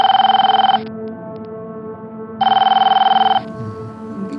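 Telephone bell ringing in two loud bursts, each about a second long with a rapid trilling rhythm, separated by a pause over a steady background hum.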